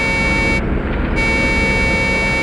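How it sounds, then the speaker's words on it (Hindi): A sustained tonal truck horn blast sounds steadily over a low motor hum in a forest, loud and unbroken, with no one speaking. "हॉर्न भी बजा रहा है।"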